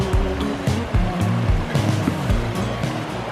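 A river flows beside a walking platform on a waterfall walk in Bulgaria. Water rushes in a steady broadband roar with low thumps that could be footsteps on the boards.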